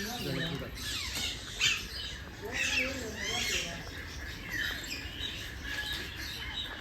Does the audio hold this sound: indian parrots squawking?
yes